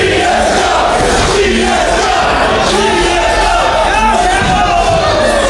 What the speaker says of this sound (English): Sellout crowd here at the Camelot Ballroom.